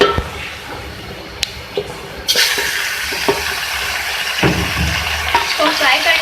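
Beef gosht fries in a pan, a steady sizzle with scraping stirs and clinks. It starts quieter, then jumps to a louder, fuller hiss as more is added, with occasional utensil knocks.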